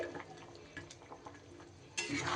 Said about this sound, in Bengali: এইবার আমি এখানে ভেজে রাখা বড়াগুলো দিয়ে দেব